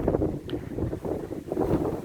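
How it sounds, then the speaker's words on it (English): Gusty wind buffets the microphone outdoors at Liopetri Potamos, Cyprus, a low, continuous roar that swells and dips. "Oh, it's getting windy."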